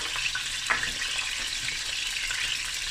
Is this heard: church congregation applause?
no